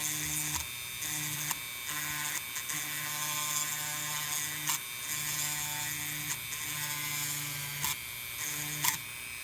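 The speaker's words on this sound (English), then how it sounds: "I'm kind of holding the Dremel almost parallel to the battery and just kind of eating off little bits of plastic" A Dremel rotary tool grinds plastic off a PetSafe collar battery, giving a steady high-pitched motorised whine with a constant tone and a few short louder bursts where the bit bites into the casing.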